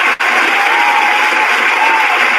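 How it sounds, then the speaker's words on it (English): An audience applauding and cheering at a talk, a dense steady roar of clapping held loudly throughout. "So give her a round of applause, too."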